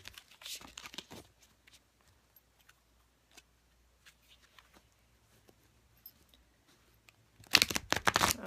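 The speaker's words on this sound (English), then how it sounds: "I always concentrate when I shuffle" A quick papery riffle of cards being shuffled opens the clip, then near-silence with a few faint taps before another brisk, crackling shuffle at the end.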